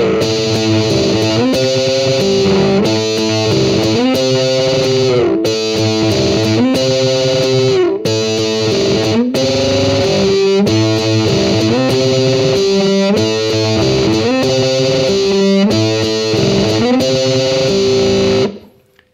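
Ukulele playing a song theme through a distortion effect, loud and dense with a steady driving rhythm of chugging chords for about eighteen seconds, then cutting off abruptly.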